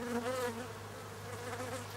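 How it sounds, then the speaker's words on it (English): A dense, steady hum of many honey bees buzzing inside a hive affected by disease, moderately quiet and continuous throughout. "There are an enormous amount of bees in the hive"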